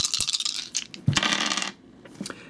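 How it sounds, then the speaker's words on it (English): Black dice roll for the Ninja Dice board game, with a burst of clattering plastic on a hard surface, a second tumbling rattle, and a few final light clicks as the dice settle. "You roll the black dice,"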